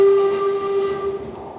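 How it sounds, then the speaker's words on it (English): A London Underground train pulls into a crowded station platform, a steady metallic tonal squeal of wheels and brakes that holds loud and gradually eases as the train slows. "The platform is packed with Tottenham fans as the train full of Arsenal fans pulls in."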